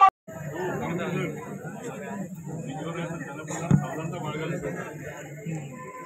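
Crowd chatter at a mud ploughing competition, with many voices talking at once in an open field and a sharp bump partway through, the babble steady and fairly close.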